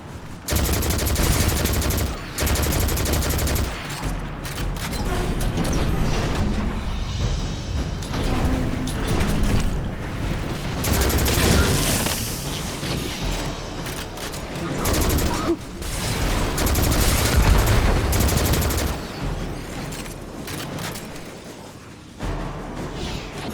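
Dense gunfire in the Destiny 2 shooter game, including sniper rifle fire from Cabal enemies, rattling continuously with mechanical clanks and loud bursts throughout.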